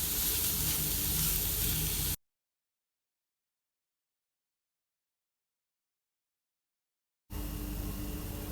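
Semolina and boiled potato mixture sizzles steadily while cooking in a pan for a breakfast kebab recipe. The close, loud frying hiss cuts to total silence partway through and then resumes just as strongly.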